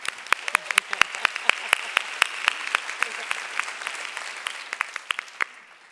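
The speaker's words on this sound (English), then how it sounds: "One round of applause once again for Rita Moreno" Audience applause at a Hispanic Heritage Awards ceremony for Rita Moreno: a crowd claps in a steady, dense patter, with sharp individual claps standing out near the front. The applause runs alone and fades toward the end.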